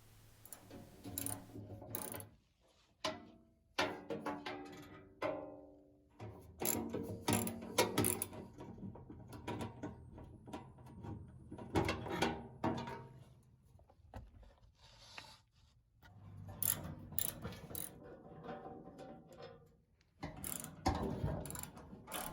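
A socket ratchet clicks in quick bursts while loosening 10 mm and 12 mm skid plate bolts under a Toyota Tundra with the 5.7L V8, intermittent close pawl ratcheting with short pauses between runs.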